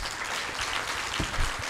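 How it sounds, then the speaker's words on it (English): Audience applause at an academic ceremony marking twenty years of research cooperation between Rwanda and Sweden, a steady broadband patter of many hands clapping at a moderate distance, carrying on evenly with no talk. "we can add another round of applause"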